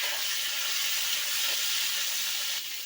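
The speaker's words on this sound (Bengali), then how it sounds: "এরপর দিয়ে দেব কেটে রাখা পটলগুলো ভালোভাবে ভেজে নেব" Pointed gourd (potol) pieces frying in oil with dried red chilli, bay leaf and whole garam masala, giving a steady close broadband sizzle that runs unbroken throughout with no talking.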